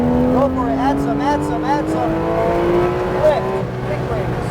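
Porsche 911 GT3 RS at full throttle on the Sonoma track, its engine note rising steadily in pitch as it accelerates hard, loud and close from inside the car, with an instructor talking over it.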